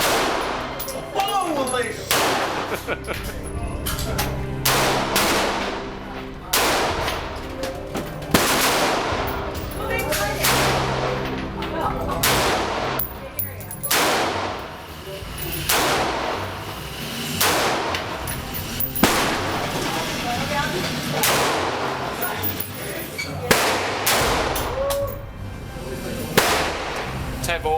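Tavor rifle gunfire in the video game Rainbow Six Vegas 2, loud bursts of automatic fire and single shots recurring throughout, with a brief exclamation from a voice partway in.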